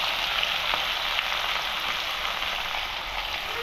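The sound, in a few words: onions frying in hot oil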